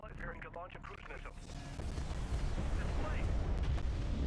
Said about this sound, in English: The Sakala is preparing to launch a cruise missile.